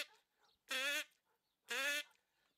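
A person imitates a duck with two loud, nasal quacks about a second apart, each lasting roughly a third of a second, close up with quiet gaps between them.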